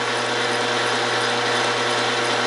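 An Ammco 4000 brake lathe in rough cut mode at its fastest speed cuts across a brake rotor face with a continuous, loud, even mechanical whir and hum, with no talking.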